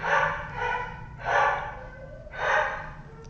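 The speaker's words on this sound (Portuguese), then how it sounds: "minha cachorra tá latindo" A female dog barking three times in quick, breathy bursts, fairly close and moderately loud, with nobody speaking.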